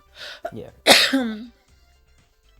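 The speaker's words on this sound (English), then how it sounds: "for being disruptive by coughing" A single sharp cough bursts out during a tabletop role-playing session, preceded by a brief spoken word and a smaller throat sound, then quiet.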